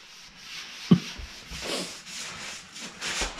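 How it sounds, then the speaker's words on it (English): Rough rubbing and scraping strokes of sandpaper over a wooden floor's bad areas, coming in uneven passes with a sharp knock early on. "are sanding the bad areas of the floor"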